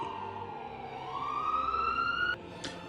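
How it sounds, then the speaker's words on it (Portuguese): An emergency vehicle siren wails in a rising sweep, clear and mid-distance, then cuts off abruptly, followed by a brief high chirp. "os gritos da multidão foram abafados pelos sons das sirenes"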